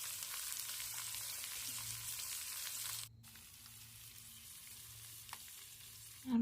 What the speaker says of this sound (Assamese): এনেদৰে আলুখিনিৰ সৈতে অলপ টাইম মই ভাজি ল'ম।